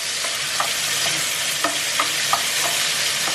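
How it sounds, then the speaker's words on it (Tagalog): Garlic, ginger and onion stir-frying in a pan, a steady loud sizzle with several light clinks of a spatula stirring at irregular intervals. "Ilalagay ko na din po ang luya and ang sibuyas. Para hindi masyado ayan, masunog yung garlic ba."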